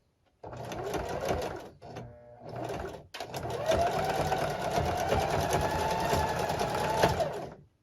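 Zigzag stitching on a sewing machine working a jelly roll rug: a close, steady mechanical whir with rapid needle chatter, briefly halting twice near the start before running continuously to the end.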